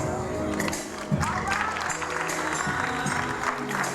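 A crowd at an MBU awards event applauds an entertainer winning a star award, a dense continuous patter of clapping filling the room, with a voice talking over it.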